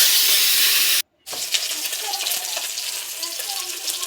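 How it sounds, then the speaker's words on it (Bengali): Fish frying in oil, a loud close sizzle with fine crackling that cuts out for a moment and then comes back a little softer and keeps going, with no one talking. "আর একটু মাছ ভাজা বাকি আছে, এটা ভেজে নিয়েই আমি তরকারি চাপাবো"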